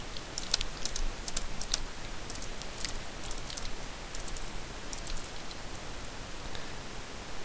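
Fast, irregular clicking of a small computer keyboard during a Transformice game, steady light taps running through the whole stretch with no talk.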